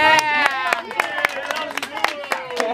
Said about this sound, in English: Come on, can I hear clapping?